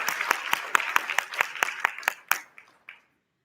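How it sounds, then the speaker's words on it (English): A brief round of audience clapping at a 2019 CWAG AAP and NBPA collaboration event: about a dozen distinct claps in quick succession, close and moderately loud, thinning out and stopping after roughly three seconds. "perhaps let's just give them a really big round of applause for them."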